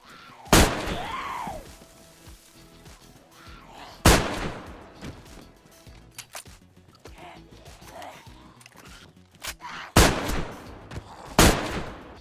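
Shotguns fire in the DayZ survival game on the Chernarus map, with about five sharp, loud blasts spread out over twelve seconds, two of them close together near the end, each with a ringing tail.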